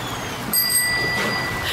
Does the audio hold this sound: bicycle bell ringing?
yes